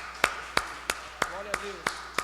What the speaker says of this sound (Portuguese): as palmas engrandecem o Senhor